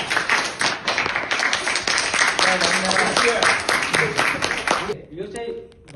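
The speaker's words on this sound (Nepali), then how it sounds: "सबैले ताली बजाउनु." A crowd claps for a marathon prize winner at an awards gathering, with a brisk, continuous patter of hands under murmuring voices that cuts off near the end, leaving a few faint sounds.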